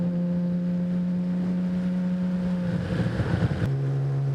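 A 1970s Honda CBX 1000 six-cylinder motorcycle engine holds a steady, loud idle hum nearby, then rises briefly into a rougher rev before settling back to a steady drone.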